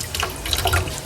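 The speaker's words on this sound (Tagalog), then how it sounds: "try natin yung tubig kung gaano kalagas" Water gushes hard and steady from a newly installed faucet in a house under renovation finishing work, a close, continuous broadband rush with no voices.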